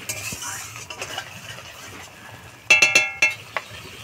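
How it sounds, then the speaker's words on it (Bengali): A spoon stirs jackfruit curry with yogurt and cashew paste in a pan, soft scraping under a quiet sizzle, then a quick burst of four or five close metallic clinks against the pot. "টক দই আর কাজু বাটা দিয়ে ভালো করে নাড়াচাড়া করে নিলাম।"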